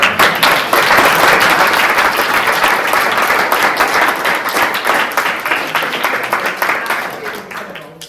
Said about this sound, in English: I think it deserves a round of applause because it's absolutely amazing.